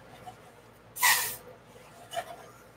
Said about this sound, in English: I'm going to spray my cups